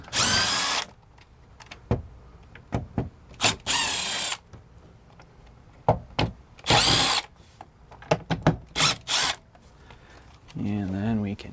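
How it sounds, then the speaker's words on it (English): A power drill backing screws out of the side trim around a Jensen mechless stereo in a 2007 Forest River Flagstaff Super Lite travel trailer: several short loud whirring bursts separated by pauses, the last one lower and steadier. "Pull our screws out."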